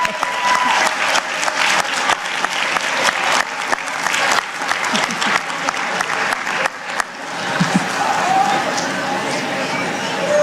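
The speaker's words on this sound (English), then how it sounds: "give them a round of applause." Graduates and guests at a college commencement ceremony give a loud, dense round of applause that continues steadily throughout, with crowd noise mixed in.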